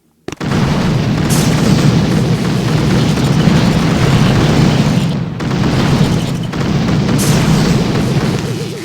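Heavy, continuous booming and rumbling from boom cannon fire in the mobile game Boom Beach, with a couple of brief dips in the dense blasts.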